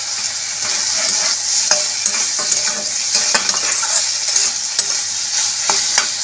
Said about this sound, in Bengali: ভালো করে নেড়ে ফেড়ে তার একসাথে মিশিয়ে দিয়েছি